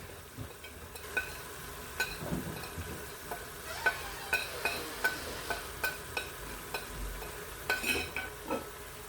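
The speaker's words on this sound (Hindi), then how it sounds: "इसकी हम अच्छी तरह से भुनाई कर लेंगे।" Cauliflower keema roasting with spices in a pan makes a soft sizzle under a regular series of sharp spatula taps and scrapes against the pan, close and fairly quiet, with no talking.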